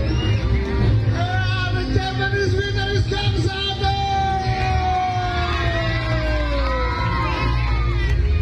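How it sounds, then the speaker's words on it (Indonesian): At an Indonesian Independence Day community event, an outdoor crowd cheers and shouts continuously, with children's voices rising above a dense, loud wash of noise. "Kita beri tepuk tangan yang meriah buat Gang 1."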